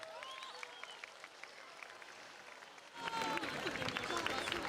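An outdoor crowd in a Sardinian village centre at the 2024 Samugheo carnival applauds the arriving masked figures; faint clapping swells into loud, dense applause halfway through while a presenter talks over it.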